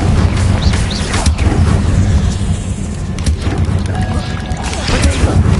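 Bombarda and Confringo spell blasts in the Hogwarts Legacy video game: loud, rumbling explosions that roll continuously through the whole clip, with a voice shouting over them.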